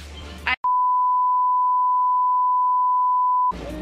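A single long, steady censor beep cuts in over speech for about three seconds, loud and pure-toned, with talking on either side.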